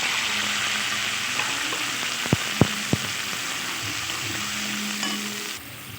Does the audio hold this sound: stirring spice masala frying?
yes